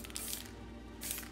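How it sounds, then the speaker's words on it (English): Spray painting an Xbox One controller part, two short hissing bursts from an aerosol can, faint and close, separated by a quiet gap over a low steady background hum. "did a test run on those before I spray painted just to see how they looked"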